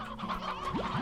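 Chickens clucking in the video game Slime Rancher, brief rapid clucks close up over a busy game soundscape.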